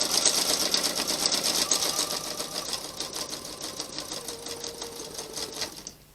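A sewing machine quilts a Valentine's quilt top around a template, with a fast, continuous needle chatter running close and loud before stopping abruptly at the end.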